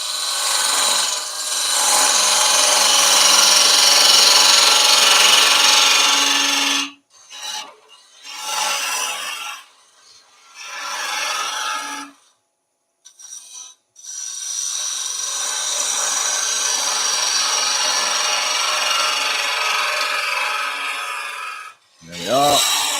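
A wood gouge scrapes and rasps steadily against a spinning turned wooden pencil pot, in long sustained bursts broken by short pauses, fairly loud and close with no talking.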